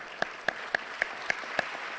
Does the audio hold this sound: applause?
yes